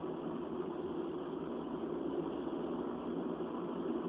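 Steady engine drone and road rumble fill the inside of a moving car with poor sound insulation, a constant, even noise with no talk over it.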